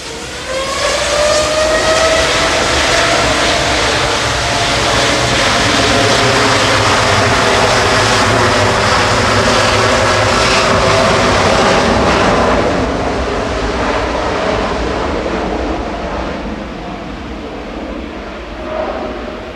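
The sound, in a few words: Qatar Airways Boeing 787 Dreamliner departing to Doha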